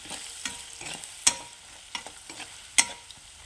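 A spoon stirs onion with salt, turmeric and chili powder in a pan for potato curry: rhythmic scraping strokes about every half second, two sharp metallic clinks, over a soft sizzle.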